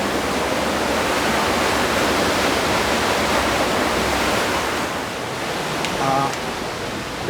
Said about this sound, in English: And this is our waterfall.